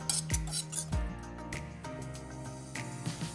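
French toast batter of milk, vanilla and a pinch of salt gets mixed in a bowl, with quick ringing clinks and scrapes of a utensil against the dish, close and bright, with no speech.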